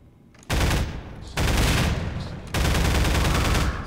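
An automated turret in the video game Half-Life 2 fires in three loud, sustained bursts of rapid machine-gun fire, each lasting about a second with short pauses between.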